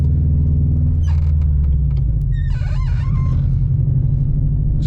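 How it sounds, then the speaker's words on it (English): A manual car's engine droning loudly inside the cabin, a steady low rumble that shifts pitch around the gear change, with faint squeaks and clicks from the cabin. "push in on the clutch, pull the stick into the next gear, and then you will release the clutch and give it more throttle"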